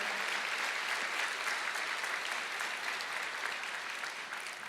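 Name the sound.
congregation applause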